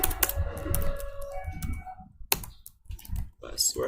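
Rapid clicking on a computer keyboard while entering switch configuration commands in Packet Tracer, close and steady at first, then fading into scattered keystrokes with a voice talking over them.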